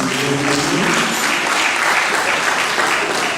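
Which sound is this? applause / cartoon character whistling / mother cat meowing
applause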